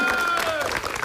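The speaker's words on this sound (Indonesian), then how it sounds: "Tepuk tangan lagi." An audience at an evening stage event claps in a brief, dense burst of applause about a second long, with a voice carrying over it.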